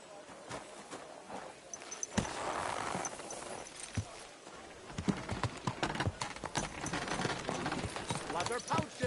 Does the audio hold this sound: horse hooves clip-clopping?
yes